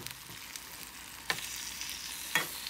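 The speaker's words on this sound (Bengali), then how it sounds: "এখানে একটু নাড়া দিয়ে দিতেছি।" Salted shrimp fry in a pan with a steady low sizzle as a spatula stirs them, giving two sharp scraping strokes over the continuous hiss; nobody speaks.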